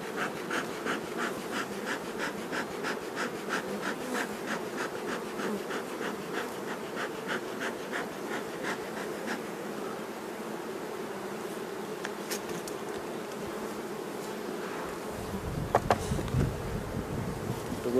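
Honeybees buzzing over a hive frame, a dense continuous hum close to the microphone with a few sharper knocks near the end.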